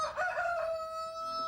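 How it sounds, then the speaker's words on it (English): A backyard chicken, one of eight laying hens, gives a short drawn-out crowing call nearby. "We have 8 hens. They're all producing eggs right now."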